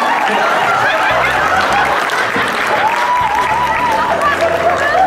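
Audience applause at a comedy magic show, steady clapping mixed with laughter and chuckles while a voice carries on over it.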